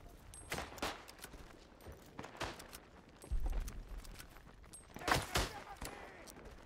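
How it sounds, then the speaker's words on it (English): Gunfire in the World War I shooter Isonzo cracks in scattered shots and short bursts, some near and some distant, with a heavier thump in the middle. Faint movement sounds and game ambience run between the shots. "Oh boy, howdy, they just shot at me"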